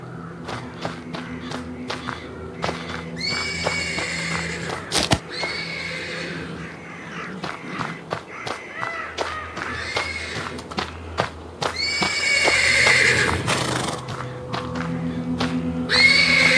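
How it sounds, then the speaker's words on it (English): A horse neighs repeatedly from stables in a video game, loud, shrill whinnies interspersed with hoof thumps and shuffling, the calls recurring through the whole stretch. "The persistent neighing of a horse can be heard from the stables."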